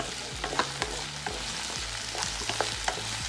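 Onions and tomatoes sauté in a pan for a Tamil turkey berry kulambu, with a soft continuous sizzle and repeated scraping stirs of a spoon at a steady rhythm.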